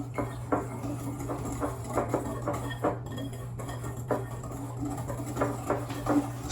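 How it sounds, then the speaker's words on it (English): Sugar mixture for a lemon loaf stirred in a bowl, with light, irregular clinks and scrapes of a utensil against the bowl over a steady low background hum. "just give them a little stir."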